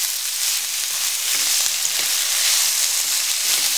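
Shredded cabbage frying in a pan over slightly lowered heat, a dense, even sizzle running loud and close for the whole stretch with light crackles and no voices.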